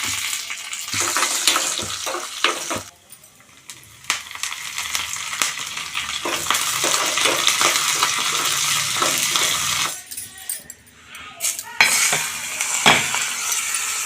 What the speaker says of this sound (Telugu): దీంట్లో ఏంటనుకుంటున్నా పచ్చెనపప్పు, మినపప్పు, కొంచెం ఆవాలు, ఒక ఎండుమిరపకాయ అంతే.